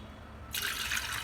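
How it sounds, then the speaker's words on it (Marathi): Water is poured onto washed dal in a pressure cooker: after a quiet moment a sudden steady splashing pour begins and keeps running close by. "पाणी टाकायचं थोडं त्याच्यात"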